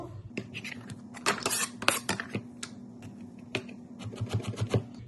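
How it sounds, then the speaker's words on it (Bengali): A knife chops potato into thin slices on a cutting board. The quick, uneven knocks ring close and sharp, one after another, over a low steady hum. "আলুটাও ঠিক এভাবেই কেটে নেব।"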